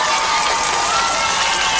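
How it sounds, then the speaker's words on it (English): Large concert crowd roars and cheers in a steady, dense wash of noise from offstage, continuous and loud throughout with no clear breaks or individual voices. "Did you hear that crowd?"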